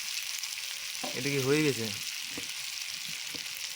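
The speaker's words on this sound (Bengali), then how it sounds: "বিলাতি ফ্রাই হয়ে গেছে এত তেলের মধ্যে।" Tomatoes fry in a generous amount of oil, giving a steady, close sizzle that runs throughout while a voice speaks briefly over it in the middle.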